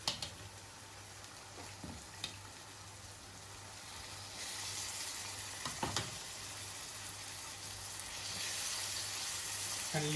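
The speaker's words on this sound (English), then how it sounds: "Now we add the boiled mushrooms into frying pan." Boiled mushrooms sizzle and fry in a frying pan, a steady crackling hiss with soft stirring scrapes, rising slightly louder toward the end.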